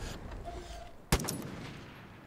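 A single sharp gunshot from the Far Cry 5 winter outpost fight cracks out loud and close, briefly ringing over a low ambient game background.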